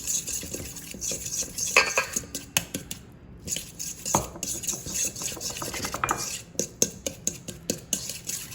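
Olive oil, salt and black pepper stirred together in a bowl, a steady scraping and clinking of a utensil against the sides with irregular sharper taps throughout, close and fairly clear.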